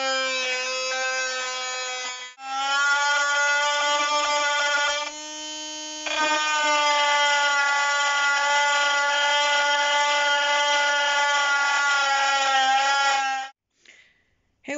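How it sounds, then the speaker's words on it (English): A cordless rotary tool from Lidl whines at high pitch with a strong steady tone, dipping briefly as it plunge-cuts into chipboard, then spinning back up and cutting continuously before switching off near the end. "We'll see if it can do a plunge cut straight into this chipboard."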